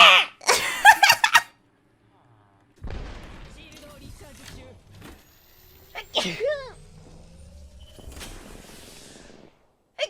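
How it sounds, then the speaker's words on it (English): Several separate sneezes from different people, sharp bursts spaced across the stretch with quiet gaps between them, each followed by brief voiced sounds and light laughter. "くしゃみです。"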